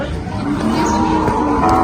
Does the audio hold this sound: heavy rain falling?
no